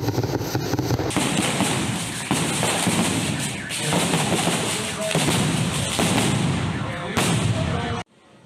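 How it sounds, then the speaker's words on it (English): Dense, continuous booming and crackling of fireworks going off in rapid succession for several seconds at a patron saint festival in Jinotepe, Nicaragua, loud and close, with voices mixed in, then abrupt silence. "it isn't a Nicaraguan festival without lots of bombas or fireworks."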